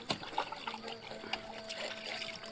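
Tap water trickles and splashes while a glass is scrubbed and rinsed during dishwashing at home, with soft irregular spatters and clinks close by and no talking.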